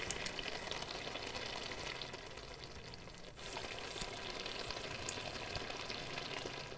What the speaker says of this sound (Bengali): ঢাকনাটি খোলার সাথে সাথে টকবক করে ফুটে সামান্য একটু জলটা কমিয়ে নেব।